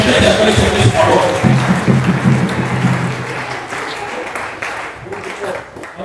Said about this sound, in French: Acclamons pour le Seigneur Jésus